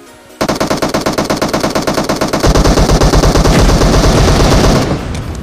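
Loud, rapid automatic gunfire in PUBG Mobile zombie mode, a long unbroken burst of close shots that grows heavier partway through before cutting off near the end.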